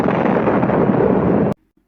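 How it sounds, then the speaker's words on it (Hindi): A loud, roaring blast fills the air for about a second and a half, then cuts off abruptly into near silence. "एक भयानक धमाका होता है।"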